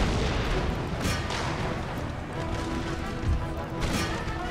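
Artillery in an Empire: Total War battle against Gauls, heavy booms and cannon blasts rolling out over a dense, noisy battlefield din, with two sharper bursts standing out.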